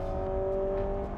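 Honda Civic hybrid's combustion engine revving hard, a brief sustained droning whine held at a steady high pitch, loud and close.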